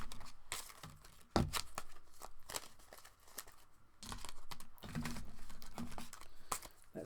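Tarot cards shuffled and pulled from the deck, with soft papery riffles, flicks and brief crinkly snaps in irregular bursts, close and fairly quiet, with no voices.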